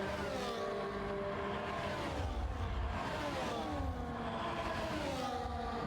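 Formula-style race cars roar through a Qatar race with heavy midfield battling, a Mercedes-powered Aston Martin among them; steady high engine whine with rising and falling pitch as cars pass and overtake, loud and continuous, no talk.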